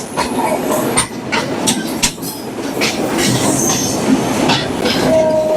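The Chilahati Express passenger train rolls along its rails through a market area in Bangladesh, with steady rumble, rhythmic wheel clatter and a brief squeal near the end.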